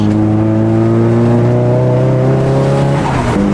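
A Nissan 180SX with an SR20 engine drives down the road, its engine droning loud and steady from inside the car, then the pitch drops and shifts near the end as the driver changes speed.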